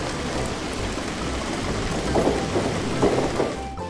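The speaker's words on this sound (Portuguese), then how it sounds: "De repente, começou a chover." Heavy rain pours down continuously with low rumbling thunder swelling underneath, a dense, loud storm effect for a children's Bible story about the great flood, with no voices.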